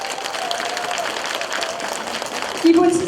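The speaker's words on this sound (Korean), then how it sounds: "따뜻한 동포의 정으로 사랑으로 박수 쳐주신다면 대단히 감사하겠습니다" At a North Korean-style art troupe performance in Uiseong, an audience claps in a dense, even wash of applause, with a brief tonal sound cutting in near the end.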